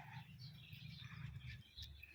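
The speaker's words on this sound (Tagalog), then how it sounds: "nandito yung ibon namin" A pet bird in a home cage gives soft, close chirps and tweets in quick bursts over a low background hum, with no talking.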